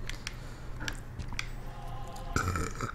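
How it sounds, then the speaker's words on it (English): A person lets out a short, low burp near the end, close and fairly loud, after a few faint mouth and handling sounds. "It's unprofessional burping on uh"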